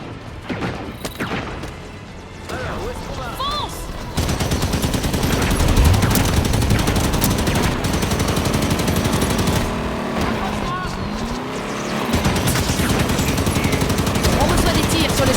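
Rapid automatic gunfire and explosions in the Halo 5 campaign, a battle around a Warthog vehicle, with dense bursts of shots and crashes that keep going under a voice.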